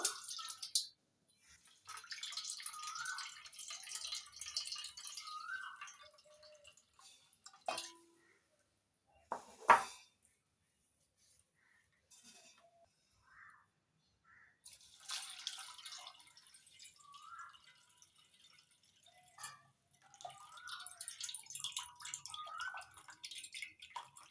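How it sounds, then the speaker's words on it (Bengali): Sago pearls being rinsed in a bowl of water, changed two or three times: intermittent sloshing, trickling and drips in bursts separated by quiet gaps, close and soft, with one sharp clink near the middle and no talk. "দুই তিনবার জল পাল্টে পাল্টে ধুয়ে নেব"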